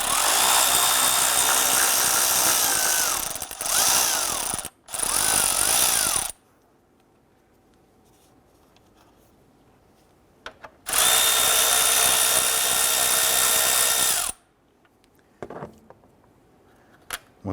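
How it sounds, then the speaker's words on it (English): A power tool spins out the two 10mm bolts holding the expansion tank on a 2012-2017 Toyota, in loud, close whirring bursts with short pauses between them and quiet gaps in between. "There's two 10mm bolts, one right here and one right on the other side."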